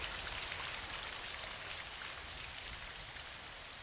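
Steady rain falling on a rainy night, a dense, continuous hiss of drops pattering on surfaces, close and even throughout with no voices.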